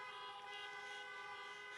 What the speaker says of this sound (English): So we can honk now.